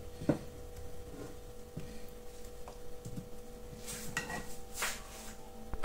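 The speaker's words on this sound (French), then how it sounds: "Je vais bien mélanger." Fish being mixed with oil in a dish for baked tilapia, soft scattered clinks and scrapes of a utensil against the dish, faint and close, with no talking.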